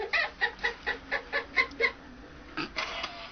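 A novelty chicken clock plays a recorded hen clucking sound: a run of about eight evenly spaced, tinny clucks followed by a couple of longer squawks, thin and close.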